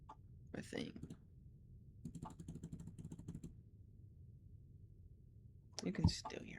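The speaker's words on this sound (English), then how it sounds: "You can still hear my mouse." A computer mouse clicking in a quiet room, a fast run of faint, light clicks in the middle, with a few louder knocks and rustles at the start and end.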